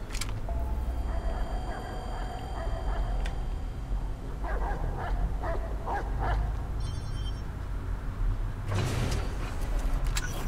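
Dogs bark in Watch Dogs 2, a cluster of several short barks in the middle and another outburst near the end, moderately loud over a steady low game ambience, with no talking.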